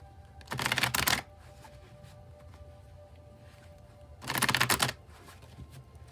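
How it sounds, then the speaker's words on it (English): Tarot card deck being shuffled, two quick riffling bursts a few seconds apart with quiet pause between, close and crisp. "I'll shuffle till the deck feels ready"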